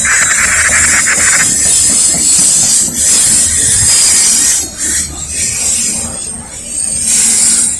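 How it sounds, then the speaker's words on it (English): A Norfolk Southern trash train bound for Roanoke, Virginia, rolls past nearby in a loud, steady rumble with hissing and rattling cars, a squeal of wheels early on, and a few brief dips in level. "Yep, that's the trash train."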